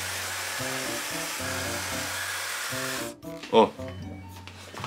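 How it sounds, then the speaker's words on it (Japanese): Hair dryer blowing while drying hair from the roots, a loud steady whooshing roar with shifting pitch that cuts off abruptly near the end, followed by a brief spoken exclamation. "最初は根元から大雑把に乾かしていきます。"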